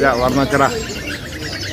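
Someone speaks briefly, then a Foxey Mantel songbird chirps and tweets in quick repeated notes beneath the voice.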